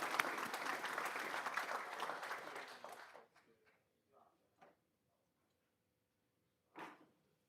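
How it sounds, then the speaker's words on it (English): Applause from the audience at a school board meeting honors a high school athletic team, dense for about three seconds and then thinning to a few scattered claps. A lone late clap follows after a short silence. "One more round of applause for the Keystone Indians."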